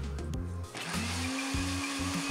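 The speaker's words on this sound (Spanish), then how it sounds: "Yo sigo licuando y agregando leche hasta que lo veo en el punto que a mí me gusta." Blender running as it purees cream cheese with milk for homemade cream cheese, a loud motor whine that starts up, rises to a steady roar and stutters briefly as the blend churns, with no talking.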